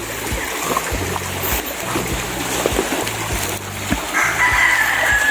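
Fighting roosters on a farm crow somewhere in the distance over a steady rush of flowing creek water, with faint clucking and rustling nearby.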